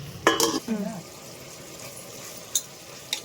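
Tomato, onion and ground masala fry in oil in a pan with a light sizzle, broken early by a couple of loud scraping stirs and a few sharp utensil clinks later on.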